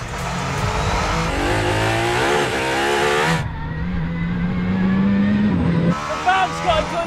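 A van and several cars accelerate flat out from a 30 mph rolling start in a race on a runway. Loud, close engines rev and climb in pitch, with a brief tire squeal as they pull away.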